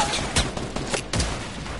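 Enemy gunfire in a video game, a few quick loud bursts of shots in close succession against a noisy background.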